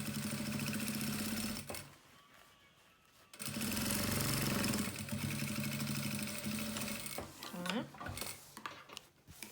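A sewing machine stitches the lining of a basic toiletry pouch in fast whirring runs, a short burst first, a pause, then a longer steady stretch with small stops, close by, while a person speaks briefly.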